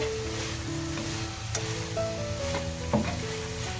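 Sliced wild greens (kuvala leaves) frying in a pan, giving a steady, close sizzle with faint clinks from stirring, no voices.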